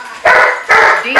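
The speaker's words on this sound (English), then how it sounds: "Which you can hear the dogs in the background." Dogs bark in loud, close, sharp bursts, with three distinct barks over a little more than a second and a brief whine between them, sounding inside a home.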